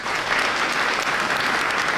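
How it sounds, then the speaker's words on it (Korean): Audience at an honorary doctorate ceremony at Myongji University applauding, a steady, dense clapping sustained for the full two seconds with no talk. "다시 한번 천신희 박사님께 축하의 박수를 드리겠습니다"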